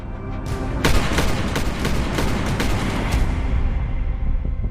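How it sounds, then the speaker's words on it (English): Series of sharp gunshots in a reenacted crime scene, about six or seven loud cracks in quick irregular succession over a dense rumbling background, no talking. "she heard the shots"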